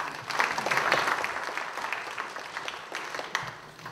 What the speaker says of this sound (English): round of applause for Vadim